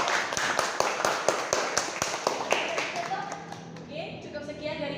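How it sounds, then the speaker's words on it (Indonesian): An audience applauding a group: a run of sharp, evenly spaced claps, close and fairly loud, that thins into scattered clapping and then fades while voices murmur. "Kita beri aplaus dulu untuk kelompok."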